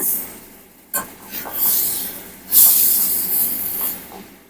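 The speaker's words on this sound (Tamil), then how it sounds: "இஞ்சி பூண்டு பேஸ்ட்டு ஒரு ஸ்பூன் அளவுக்கு சேர்த்துருக்கோம் கொஞ்சம் வதகணும்" Sizzling and hissing from ginger garlic paste sautéing in a hot pan for prawn gravy, rising in bursts with steady crackle underneath, no voices.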